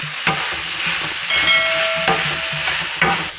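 Tawa kaleji, goat liver on a hot griddle, sizzling steadily while a spatula scrapes and knocks against the metal in several distinct strokes, loud and close with no talking.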